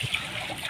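Choppy sea water splashes and sloshes against a small fishing boat on a windy day, in a brief, close burst.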